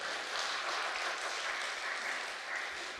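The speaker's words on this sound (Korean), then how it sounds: "이런 때 박수 치는 거야" A church congregation applauds, a steady wash of clapping from many hands, fairly distant and quiet, continuing throughout.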